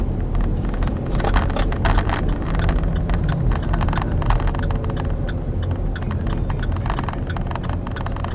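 A car on the road during a driving lesson gives a steady, continuous engine and road rumble heard from inside the cabin, with faint rattles and wind noise throughout and no clear speech.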